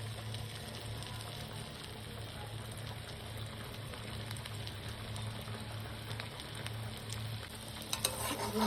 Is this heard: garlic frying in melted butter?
yes